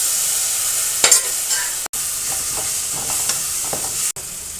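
Tomatoes fry in a pan for a shredded chicken dish, a loud, constant, close sizzle with a few light stirring scrapes. No one speaks.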